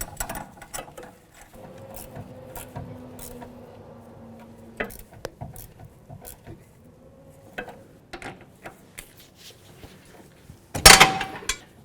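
An inner tie rod removal tool being fitted and worked on a 2007-2017 Jeep Compass gives scattered metallic clicks, taps and ratcheting ticks at close range, ending in a louder clattering burst near the end, with no talking.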